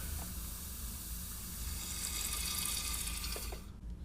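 Transmission fluid pours from a bottle into the transmission of a 2002-06 MINI Cooper S during a clutch replacement, a steady faint liquid hiss and trickle that cuts off abruptly near the end.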